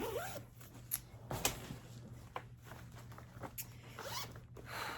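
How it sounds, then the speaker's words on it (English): A metal zipper pull on clothing makes a few quick, close scratchy rattles and clicks over a low steady background hum, with no talking. "zipper pull popped open and stabbed me"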